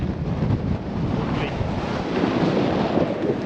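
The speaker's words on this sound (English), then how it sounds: "Why is it every time I come to the Cheviot it's this bloody windy?" Strong wind buffets the microphone on the summit of the Cheviot in the Northumberland hills, a constant loud gusty roar with heavy low rumble and no pauses.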